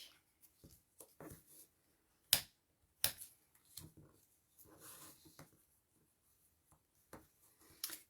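Paper is folded and creased into pleats, bringing soft rustles, light scrapes and a few sharp crisp snaps, close and quiet with gaps of near silence between them.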